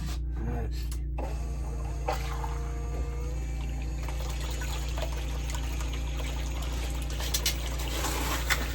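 Water pours and trickles steadily through a Boss Buddy clean-up sluice over a constant pump hum, the flow running continuously with a few light splashes and clunks.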